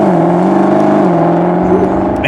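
A Mercedes SLS AMG sports car engine sounds loud and close, holding a steady note with a brief rise in pitch, with no talk over it.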